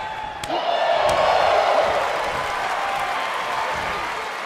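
A virtual arena crowd in the WWE 2K23 wrestling game breaks into loud, sustained applause and cheering for a wrestler, swelling quickly and then holding as a steady wash of noise.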